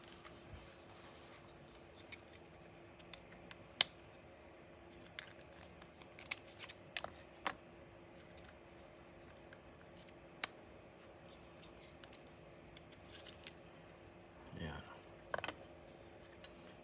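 Scissors snip through adhesive tape in a quiet room, giving a handful of sharp, isolated clicks and cuts spread out over a faint, steady hum.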